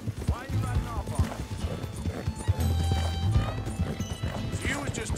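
Horse hooves clip-clopping close by as a rider gallops off in Red Dead Redemption 2, with a whinny and voices talking over the rhythmic beats.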